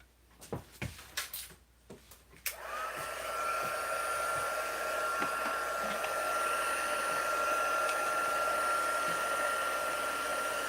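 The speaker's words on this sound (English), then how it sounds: "Let me heat up my embossing gun, my heat gun." An embossing heat gun runs for card making, starting after a few soft clicks and knocks, then holding a loud, steady, close whine with a constant high tone until the end.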